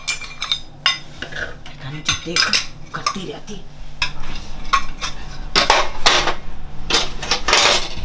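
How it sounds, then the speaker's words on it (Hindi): Metal utensils fall and clatter in a series of sharp, ringing clanks and scrapes, bunched in bursts that grow busier toward the end, while someone speaks briefly. "अब कुछ नहीं बहू, बर्तन गिर गए।"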